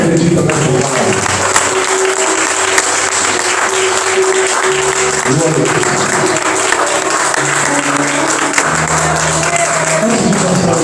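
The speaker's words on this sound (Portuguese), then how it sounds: "Aplauda o Senhor" Church congregation applauding during a Portuguese-language evening service, a loud, continuous wash of clapping throughout with a sustained tone and voices running underneath.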